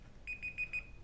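Phone charging timer alarm beeping four times in a steady, evenly spaced pattern, thin and fairly quiet against a faint background hum.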